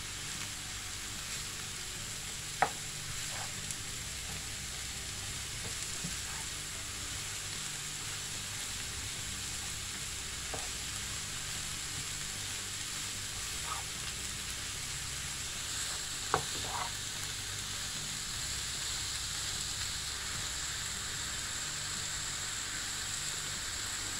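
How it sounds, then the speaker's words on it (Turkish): Leeks sauté quietly in a pan for a leek börek filling, giving a soft, continuous sizzle with a few faint clicks and utensil taps. The sound stays low and steady throughout. "Şimdi bunu şöyle soteleyeceğiz."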